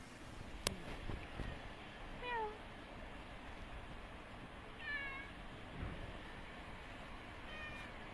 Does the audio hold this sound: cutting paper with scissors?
no